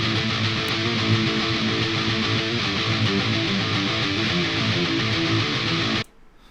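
Layered djent guitars from a Line 6 POD HD500X mix, one pitched an octave down and one an octave up, play together as a dense, loud wall of sound before cutting off abruptly near the end.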